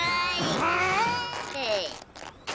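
A cartoon sled cat meows and caterwauls in a drawn-out, wavering cry, loud and close, with pitch sliding up and down across a couple of yowls.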